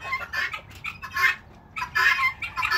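Chickens in their pen clucking close by in a steady, busy chorus of overlapping short calls.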